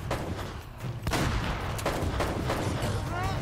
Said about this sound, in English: it takes one shotgun to blast to kill him